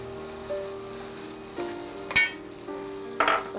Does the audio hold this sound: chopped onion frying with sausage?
yes